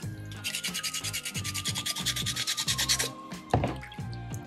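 Soapstone cat sculpture ears are carved with a hand tool, producing a rapid, steady run of close rasping scrapes in rhythmic strokes, ending with a couple of louder knocks and a brief pause.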